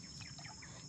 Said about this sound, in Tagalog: Wala talaga ibang maririnig mo kundi huni ng ibon